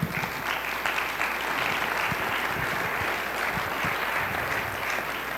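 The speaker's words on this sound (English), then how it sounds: "Could we give all of those people a round of applause?" An audience at a talk gives a round of applause, with dense, steady clapping from many hands that carries evenly from start to finish.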